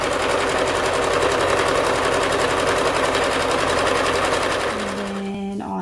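A sewing machine stitches a fabric seam on a bow wrap with a fast, steady mechanical whirr close up, then stops abruptly near the end, leaving a brief quiet tail.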